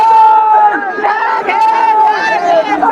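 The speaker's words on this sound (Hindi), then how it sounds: "आप देखो क्या गजब का भीड़ है यहाँ पर।" A huge, dense crowd gathers at a political rally in Lucknow. The hubbub of many voices is loud, close and continuous, with shouts rising from the mass of people and someone speaking over it.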